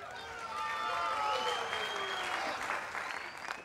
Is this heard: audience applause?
yes